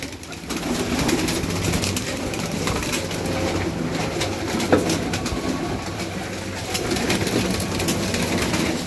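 Newly acquired pigeons in a training loft coo continuously over a dense bed of flapping and shuffling, close and fairly loud, with no talk.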